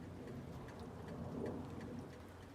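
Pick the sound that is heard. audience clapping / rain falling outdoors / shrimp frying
rain falling outdoors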